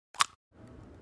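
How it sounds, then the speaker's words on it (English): An egg is cracked to make dough: one sharp, close crack followed by a soft, faint trickle as the contents drop. "This is an egg getting cracked to make some dough."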